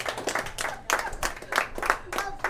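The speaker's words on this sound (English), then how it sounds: "Y'all should clap about that." An audience claps in irregular bursts, mixed with talking and crowd noise.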